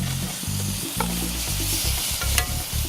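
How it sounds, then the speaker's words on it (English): Garlic sizzles in melted butter in a hot pan set over coals, a steady loud frying hiss with stirring scrapes and a few sharp pops, no voices. "we're going to throw in some garlic in there too"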